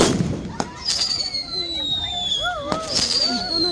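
Diwali firecrackers going off among a group of friends, with sharp pops and bangs, a whistling rocket streaking overhead, and people talking and calling out over the noise.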